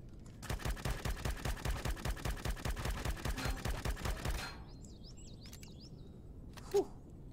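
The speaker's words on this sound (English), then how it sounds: "Someone is shooting." Rapid automatic gunfire in the space game Empyrion, a sustained burst of evenly spaced loud shots lasting about four seconds, then quiet with faint chirpy electronic tones.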